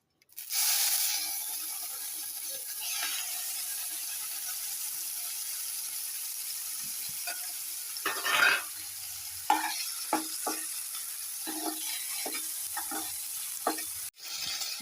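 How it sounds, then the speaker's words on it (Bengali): Shrimp fries in a pan with a steady, close sizzling hiss that runs throughout, broken by scraping stirs and small spatters near the end. "এবার এই চিংড়িটা ভাজছি।"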